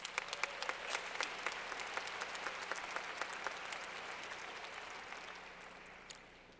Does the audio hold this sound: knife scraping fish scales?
no